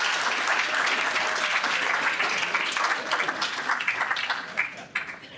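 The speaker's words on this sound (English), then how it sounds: "What do you say we give her a round of applause?" Audience applause at a city council meeting, a sustained round of dense clapping from a room full of people that gradually thins and trails off into scattered claps over several seconds.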